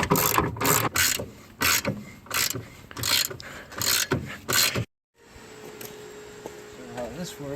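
A ratchet wrench turns 14 mm bolts on a car strut, giving repeated bursts of loud, close clicking strokes, then a pause and quieter workshop noise with faint tones.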